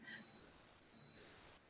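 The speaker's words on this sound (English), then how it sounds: "The rest of my coffee pot just beeped off." A coffee pot switching off gives two short, high electronic beeps spaced about a second apart, fairly quiet over a faint room background, with no talking.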